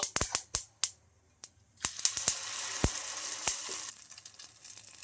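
Sesame seeds and cumin sizzle in hot oil, giving sharp, scattered crackling pops, some loud and close, over a softer steady fry.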